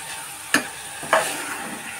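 Coconut and jaggery modak filling stirred in a pan: two distinct scraping strokes of a spoon against the pan, close and clear, over a soft continuous sizzle.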